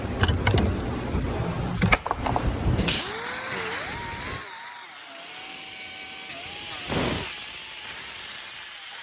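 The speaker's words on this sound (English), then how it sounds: "You want to clean them up with a little wire wheel" Motor-driven wire wheel grinding rust off Subaru EJ25 engine bolts, a whirring tool with bursts of scraping, rising and falling pitch as load changes, close and fairly loud with brief pauses.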